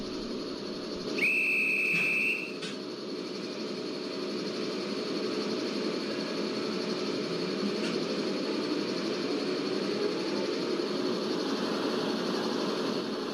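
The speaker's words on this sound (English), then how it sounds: "Now let's on the pantograph. As we can see that panto is rising. Let's start up the loco." An electric locomotive hauling an express train powers up with a steady low electrical hum and drone, then a sharp high horn blast sounds for about a second near the start, moderately loud and close, with no talk.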